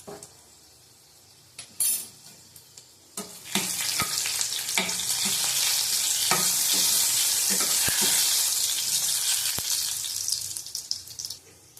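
Dried red chilies and whole spices being fried in hot oil in a kadai produce a loud, steady sizzle that swells after a few sharp clinks, with occasional utensil knocks and nothing spoken.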